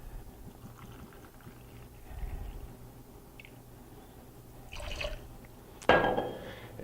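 Gin and grapefruit juice poured for a cocktail, with faint liquid trickles and glassy clinks, a small splash midway and a sharper clink near the end, quiet and close.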